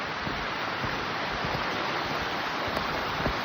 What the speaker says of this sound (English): This is by far the biggest creek in the area.